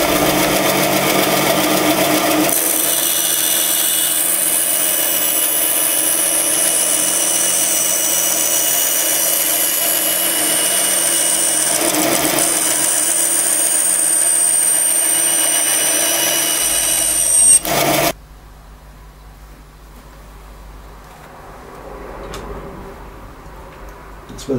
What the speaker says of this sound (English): Over to the bandsaw.